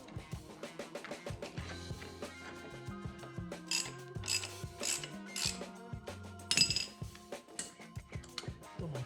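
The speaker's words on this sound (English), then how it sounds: "Let me throw my wheel back on here." Metallic clicks, knocks and ratcheting clatter as a wheel is fitted back onto a minibike being rebuilt with a hydraulic brake; close, busy mechanical handling throughout with no talk.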